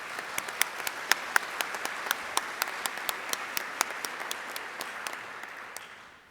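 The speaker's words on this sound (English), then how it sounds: "And a round of applause, please, for staff." Audience at OPPI's 2011 annual general meeting applauding staff: sparse, distinct claps from a modest crowd, steady and fairly close, thinning out toward the end.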